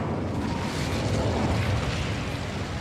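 A fire spell cast in the Hogwarts Legacy video game: a steady, dense roaring whoosh of flame that holds loud and full for a few seconds without breaks.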